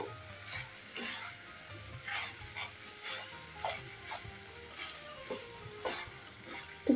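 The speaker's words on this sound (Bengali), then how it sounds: "এবার এটাকে দেখো ভালোভাবে মিশিয়ে নেবো পাস্তার সাথে" A spoon stirs drained spicy pasta through its sauce in a hot pan, producing soft scraping strokes at a steady rhythm over a faint background sizzle, with a few sharper clinks along the way.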